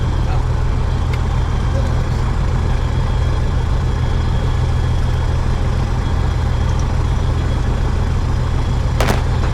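A carbureted light aircraft engine idling at around 800 to 1,000 rpm, a loud, steady low drone heard from inside the cockpit, with faint clicks over it.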